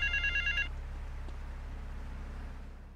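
A payphone rings in GTA Vice City: a loud electronic double-ring trill for under a second, then a steady low drone and faint game ambience, with no talking.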